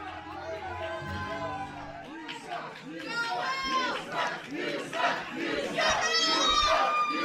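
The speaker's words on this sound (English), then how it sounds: "this Fox Lake crowd voicing their opinion of the matter" A wrestling crowd at a live show in Fox Lake jeers and shouts loudly, a dense roar of many voices rising and falling, growing louder and more heated through the second half.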